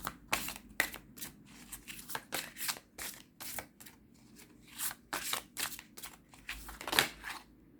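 Cards are shuffled by hand for a card reading: a rapid run of soft, crisp riffling flicks with brief pauses, close and fairly quiet, with no talking.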